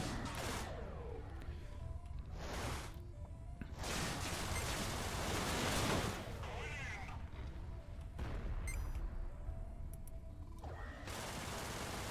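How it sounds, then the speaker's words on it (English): Heavy weapon fire in the space shooter game Everspace: dense bursts of blasts and booms hammer away almost continuously, loud and close, with talk over the top. "So a lot of heavy fire here."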